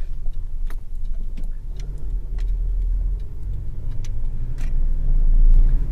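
An Isuzu D-Max on a test drive after an EGR valve replacement, heard from inside as a steady low engine and road rumble that swells toward the end, with a few faint clicks and rattles and no talk.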